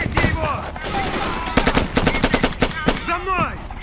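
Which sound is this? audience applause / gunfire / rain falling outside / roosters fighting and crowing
gunfire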